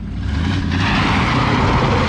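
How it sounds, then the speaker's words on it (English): A 1963 Ford Fairlane 500 spins its rear tire on a dirt road with a loud, close, continuous roar of engine and churning wheel that holds steady for a couple of seconds. "Open back tire spinning."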